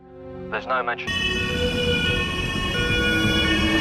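A loud, close ambulance siren wails continuously, coming in suddenly after a short burst of speech and then holding steady tones to the end.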